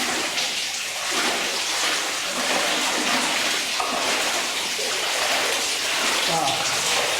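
Water gushes steadily from a plastic or rubber hose out of a flooded mine shaft, a loud continuous splashing close by, with faint voices underneath.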